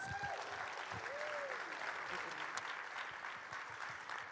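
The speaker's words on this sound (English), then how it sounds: "let's give those grantees another big round of applause" A mainstage conference audience applauds a group of grantees, a steady, fairly distant wash of many hands clapping with a brief tonal whistle-like sound early on.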